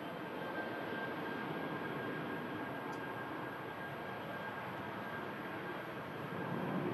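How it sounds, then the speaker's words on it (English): A British Airways shuttle airliner passes at Manchester Airport, heard as a steady, broad, distant engine roar with no distinct peaks, bound back to London Heathrow. "There goes the British Airways shuttle."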